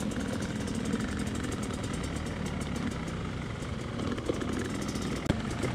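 A Yamaha YZ250X motorcycle engine runs steadily at low revs on a trail, a constant mid-level rumble with no talking, and a brief knock near the end.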